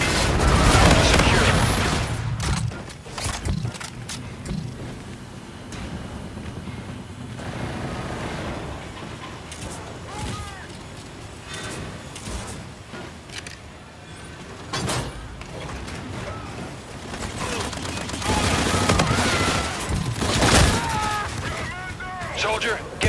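A missile bombardment in Call of Duty: Infinite Warfare multiplayer brings a heavy opening blast, repeated booms and rumbling impacts across the stretch, with gunfire crackle and radio-style voices talking over the din.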